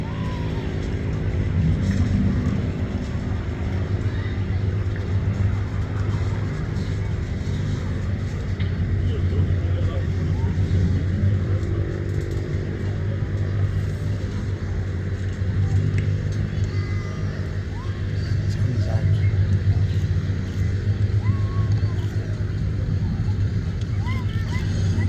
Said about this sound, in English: Very distinctive sound of the Mark 19 Griffin engine as the Lancaster